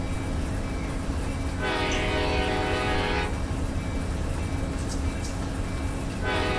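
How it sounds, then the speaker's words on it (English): An Amtrak train in Run 8 Train Simulator rumbles past with a steady low roar, sounding two long horn blasts spaced a few seconds apart over the continuous rail noise. "The other Amtrak is just now coming through Yukon."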